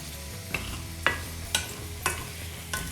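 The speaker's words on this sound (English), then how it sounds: "Now we will have to dry roast all this masalas well." Spices and coconut dry roast in a pan over a low flame with a faint crackle, while a spoon scrapes and stirs in five sharp strokes at a regular pace, close up, with no voices.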